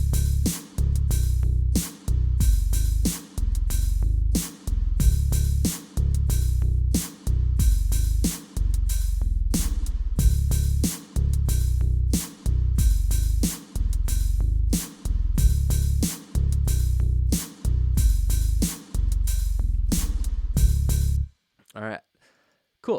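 Bass riff with drums: a loud, steady groove of deep bass notes and punchy hits repeating rhythmically for about twenty seconds, then cutting out abruptly near the end.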